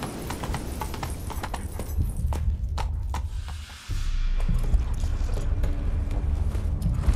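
Horse hooves clip-clop steadily in The Witcher 3, a continuous, fairly close rhythmic trot over ground, with a brief dip midway before the hoofbeats resume amid ambient game sound.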